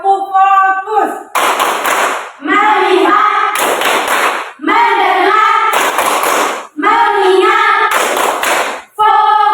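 Children in a classroom perform the rhythmic tepuk fokus clapping routine, chanting words together between sharp bursts of unison claps, loud and close.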